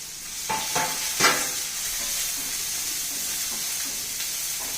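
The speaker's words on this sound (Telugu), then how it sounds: "ఉల్లిపాయ పచ్చిమిర్చి వేసుకోవాలి వీటిని దోరక వేగనివ్వాలి" Onions and green chillies frying in a tempering of mustard and cumin, with a steady close sizzle, a few sharp stirring clinks near the start and continuous hissing throughout.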